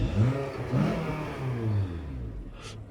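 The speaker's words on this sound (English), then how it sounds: "The engine sounds lovely." A Honda Odyssey 2.4 petrol engine runs nearby, its pitch rising and falling in a few gentle revs before easing back to idle.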